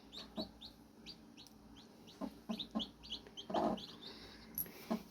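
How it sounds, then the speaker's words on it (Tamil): Four newly arrived black hen chicks give faint, high peeps and chirps in scattered bursts. Soft low taps and rustles sound in between, all quiet and close with no talk. "எங்கள் வீட்டுக்கு புதுசாக கோழி குஞ்சுங்க வந்திருக்காங்க"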